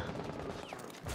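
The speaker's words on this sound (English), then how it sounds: "Or you can fire three bullets at the window." A short, fairly faint burst of gunshots fired at a window in Rainbow Six Siege, quick sharp reports crowded into about a second.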